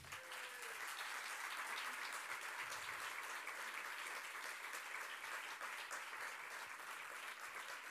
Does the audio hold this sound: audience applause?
yes